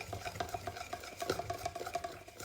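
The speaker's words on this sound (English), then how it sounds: "I'll get that all stirred up" A spoon stirs a dry oat-flour mixture into wet apple-cinnamon cookie dough in a bowl, making quick, rhythmic scraping and tapping strokes, close and steady, with no talking.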